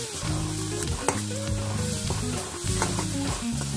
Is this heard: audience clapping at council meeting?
no